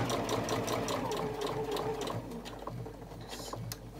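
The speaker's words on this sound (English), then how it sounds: "Just sew over it a little bit and backstitch." A sewing machine runs steadily for about two seconds, then stitches in shorter stop-start bursts while backstitching a seam on a catch-all caddy, close and moderately loud.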